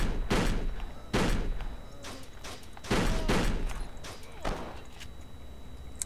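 Several sharp pistol shots in the video game Kane & Lynch 2: Dog Days, fired singly in an irregular rhythm, each crack followed by a short decay.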